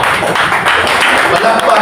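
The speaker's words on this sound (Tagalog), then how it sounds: "Palakpak na para sa Ginoo." Church congregation applauding for God, loud dense clapping filling the space with voices mixed in, steady for a brief burst.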